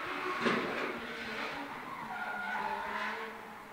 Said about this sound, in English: it's David Hunter out for his first run in qualifying on the loud pedal. Mashes the gas.